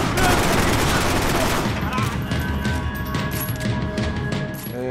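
Rifle gunfire in the video game Max Payne 3, a dense barrage of shots and bursts running throughout with a steady roar of battle and ringing tones behind.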